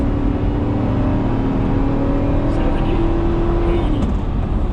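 A Chevrolet Tahoe engine hums steadily from inside the cabin, its pitch rising smoothly as the SUV accelerates to about 80, then dropping slightly near the end.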